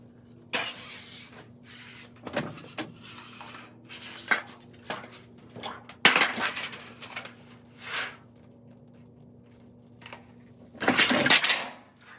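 Metal hand shears cut a copper sheet to length for a door pan, giving a series of sharp metallic chops and clanks with quiet gaps between them and a final louder crunch.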